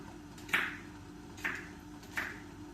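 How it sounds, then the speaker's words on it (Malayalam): A knife chops green chillies on a cutting board, three soft, separate taps spaced roughly a second apart over a quiet kitchen background. "ഒരു 3 പച്ചമുളക് അരിയാം."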